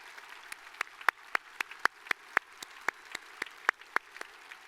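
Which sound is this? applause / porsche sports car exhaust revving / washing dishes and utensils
applause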